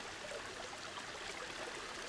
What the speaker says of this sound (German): da können wir so sprudelndes Wasser so machen an kleinen, an so Steinen, die ich da hinlege.